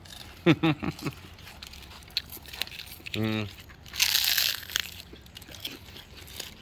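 A voice speaks briefly, then a sharp crunchy bite into pork rinds and crinkling follow, close and loud, with quieter rustling afterward.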